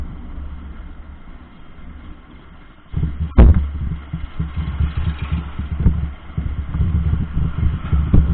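A Bajaj Avenger Cruise 220 motorcycle rolls along a road in Himachal, its engine droning steadily with a rougher, louder pulsing rumble after a sharp knock midway, wind noise throughout.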